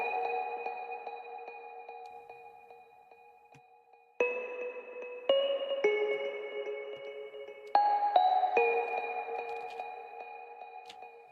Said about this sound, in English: On my Omnisphere, which is this sound, I have literally delay and reverb.